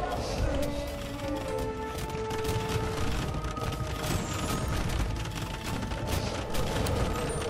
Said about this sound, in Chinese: 哇，为了控火炮， Hera 控到自己家里全部爆炸了